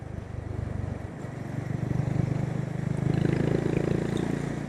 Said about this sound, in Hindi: अब मैं फिफ्थ गियर पे हूँ, जो कि इसका टॉप गियर है, और मैं क्रूज़ कर रहा हूँ बाइक को।